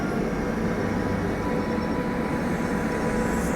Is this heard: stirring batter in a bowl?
no